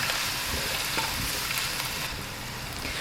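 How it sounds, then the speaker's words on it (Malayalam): Chopped onions and curry leaves sauté in hot oil for a Kerala-style chicken curry, giving a steady, close crackling sizzle that runs alone without a pause. "എന്നിട്ട് ഇനി അത് പച്ചമണം മാറുന്ന വരെ നമുക്കൊന്ന് വഴറ്റിയെടുക്കാം."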